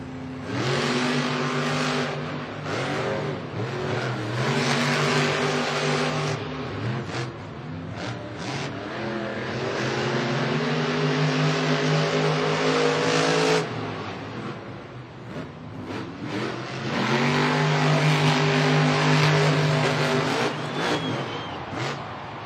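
Monster trucks including Gravedigger race in a stadium, their big engines roaring and revving in long loud surges that rise, cut off and build again, with crowd and arena noise beneath.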